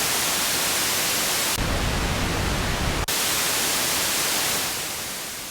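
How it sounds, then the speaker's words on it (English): Continuous hissing white noise from a Minimoog synthesizer's noise source, loud and steady, briefly shifting to a fuller, bassier noise in the middle before returning and fading slightly. "Here's your noise source. We'll start with white noise."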